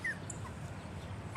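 Five-week-old puggle puppies whimper softly outdoors, giving a couple of faint, brief high whines and yips against a quiet background, with nobody speaking.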